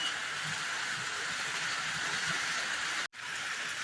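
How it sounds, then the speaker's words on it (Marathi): Steady rain falls over a village in Malpe in May, a dense, even hiss that runs unbroken and fairly loud, with only a brief dropout near the end. "पाऊस पडतोय"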